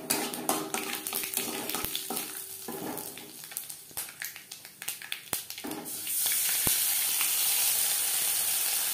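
Cumin and mustard seeds with chili frying in oil for a Bengali bitter dal, with scraping and clinking stirring near the pan, then a steady, louder sizzle hiss over the last few seconds.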